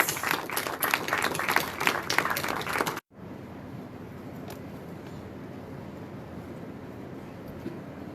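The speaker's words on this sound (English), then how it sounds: "This requires a thunderous applause, a loud thunderous applause" Applause from an audience at the curtain raiser of a science film festival in India, a dense burst of clapping for about three seconds that cuts off abruptly, leaving quiet room noise.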